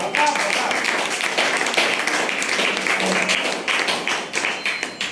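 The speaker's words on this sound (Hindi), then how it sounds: "ये तालियां इस बात की सबूत है" An audience at a book launch for a song collection claps steadily, a dense patter of many hands, fairly close, with a few louder individual claps standing out as it begins to thin.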